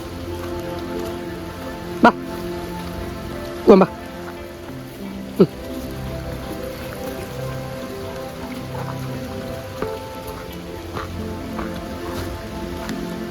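Heavy rain falls steadily on surfaces near a stream, a dense even patter with a few sharp knocks and clatters breaking through.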